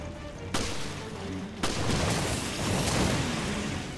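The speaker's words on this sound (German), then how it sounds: "Das dicke Ding muss explodieren!" Two sharp blasts from a large object exploding in Resident Evil: Revelations, the second followed by a long, dense roar of rumbling debris and noise that fills the rest of the moment.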